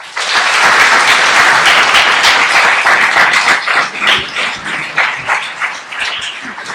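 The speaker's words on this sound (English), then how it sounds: "A hand of applause for both of them, please." Sustained applause from a school debate audience fills the room, loud and dense from the start, then thins into scattered claps toward the end.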